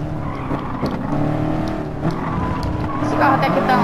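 A roughly 1000-horsepower race car engine in a racing video game drones at a steady pitch with faint tire noise, loud and close, while a voice talks over it.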